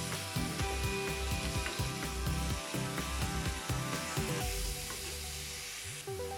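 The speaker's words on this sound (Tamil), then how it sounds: "இப்போ வந்து எக் பிளான்ட்டை போட்டுடலாம். நல்லா எண்ணெயிலே நல்லா வதங்கட்டும்." Eggplant sautéing in oil in a pan for a brinjal gravy, a continuous dense sizzle with rhythmic low thumps and scrapes of stirring throughout, heard close and fairly loud.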